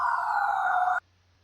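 An ambulance siren sound effect holds a steady, loud electronic tone for about a second, then cuts off abruptly into near silence.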